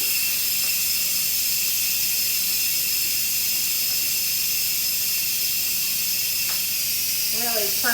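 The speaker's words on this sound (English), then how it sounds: "We're gonna quick release." Steady loud hiss of steam venting from an Instant Pot on quick release after cooking lobster tails, continuous and unbroken throughout, with a brief voice near the end.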